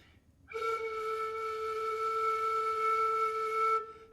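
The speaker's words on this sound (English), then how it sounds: "If you cover the end of the head joint with your hand, you get a low sound" Covering the end of a flute head joint with the hand gives a low, steady whistling tone with clear harmonics, held alone for about three seconds.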